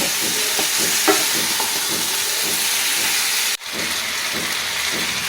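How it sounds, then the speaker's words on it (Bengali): Lightly fried eggs stirred around a hot frying pan with cabbage, giving a steady close sizzling hiss with soft scraping strokes and a brief dip midway. "হালকা করে ভেজে রাখা ডিম এবার সব এগুলো আস্তে আস্তে করে আমি ভালো করে একটু নেড়ে চেড়ে নেব"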